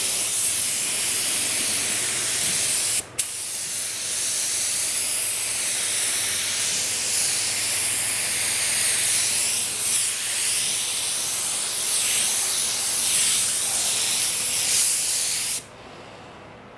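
A spray gun lays Nason base coat onto a car in hot weather, giving a steady loud hiss that breaks off briefly once early on and cuts off again near the end of the pass.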